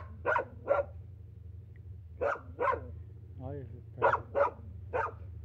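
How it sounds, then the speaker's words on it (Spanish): A dog barks close by in three quick bursts of two or three sharp barks each, with a brief whiny vocal sound between them over a low steady hum. "Mira ese perro guacalo."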